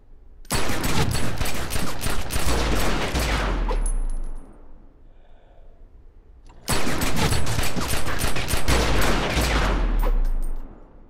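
Rapid pistol fire from the Gun Crazy elite skill in a video game comes in two dense bursts of about four seconds each, separated by a short quiet gap, loud and up close.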